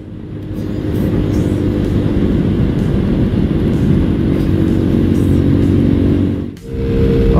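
A Skyteam replica motorcycle cruises steadily at about 70 km/h, its engine a loud continuous hum with wind rush, with a brief dip near the end before the drone resumes.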